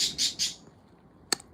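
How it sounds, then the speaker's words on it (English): Pet birds chirp indoors, three loud high squawky chirps in quick succession followed after a pause by one sharp short call, nearby and with no talking. "I always let my birds out of the cage"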